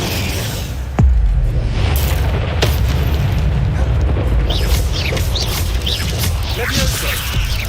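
A heavy booming fire blast from a cast spell in Hogwarts Legacy hits loud and close, then a dense rumbling roar continues with crackles and whooshes layered on top.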